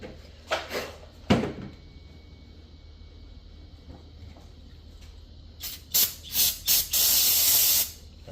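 Short aerosol spray bursts hiss onto a bolt during a pressure washer wheel hub repair, with a few quick spritzes early, then a cluster of longer, louder blasts ending in a sustained spray.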